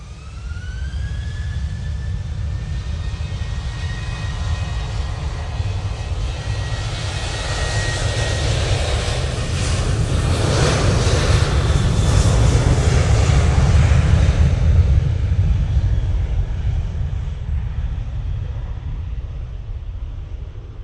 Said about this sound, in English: Off to Milan we go with this Ryanair.